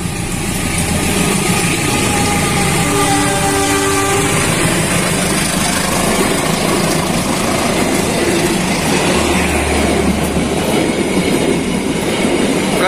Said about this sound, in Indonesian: Ini dia kereta api Serayu. S35 dibunyikan.